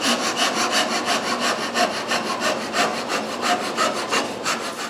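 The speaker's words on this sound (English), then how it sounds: "I just need to cut this in half." A handsaw cutting a piece of wood in half, with steady back-and-forth strokes and a rasping sound on each pass, close and even in rhythm with no voices.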